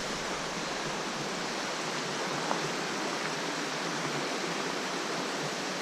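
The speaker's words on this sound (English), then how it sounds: "Right here, it's really close to the creek." A creek flows close beside the Ice House Canyon Trail in the Southern California mountains, a steady rushing babble of water at a constant level, near and unbroken with no voices.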